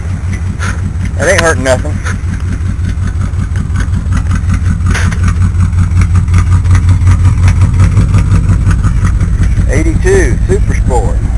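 A 1966 Chevrolet Malibu, left sitting since 1982, cranks and then settles into a loud, steady, rumbling idle close by, while someone talks over the engine throughout.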